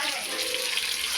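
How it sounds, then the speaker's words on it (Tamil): Fish being washed with turmeric and salt under a running kitchen tap, a steady close rush of water pouring without a break for the whole moment. "மீனை நல்லா மஞ்சத்தூள் உப்பு போட்டு கழுவுறோம்."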